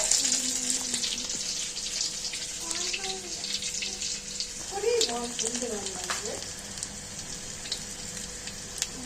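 Continuous frying hiss with occasional clatter as chopped vegetables such as sweet potato, pumpkin and beans drop one by one into the hot pan, while a voice hums or speaks briefly in the middle.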